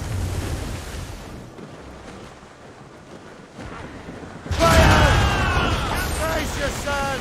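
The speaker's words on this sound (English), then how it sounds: "That wind's trouble, Captain Cormac." Wind and crashing waves at sea in a pirate ship video game, a steady roar of blowing wind and water that swells into a louder surging rush midway, with voices shouting over the storm.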